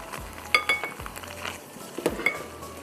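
Whole white cumin and half a cup of thin tomato puree cooking in a pan for butter chicken biryani, with a soft sizzle under repeated metallic clinks and scrapes of a spoon stirring against the pan.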